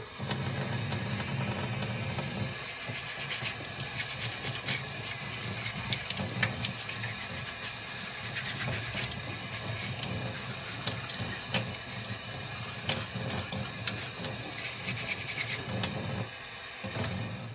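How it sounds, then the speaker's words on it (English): Tap water runs steadily into a sink while a trailer light lens is rinsed and scrubbed with a brush, a continuous close splashing hiss with faint scrubbing and knocks, no talk. "I'm just grabbing the lens, grabbing a brush, and we're going to rinse it out and scrub it."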